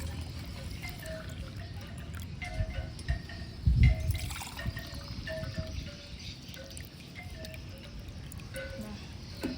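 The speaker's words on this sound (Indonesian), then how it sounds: "Kita tuangkan untuk bintang tamu kita." Bottled Teh Pucuk tea is poured into a glass nearby, making a soft trickling, gurgling pour with a brief louder splash partway through, over faint background noise.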